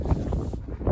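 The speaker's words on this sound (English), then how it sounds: "I'll wait for this wind to die down" Strong gusty wind buffets the microphone on the summit of Snowdon, roaring in uneven bursts with a brief lull near the end, close and loud with no talking.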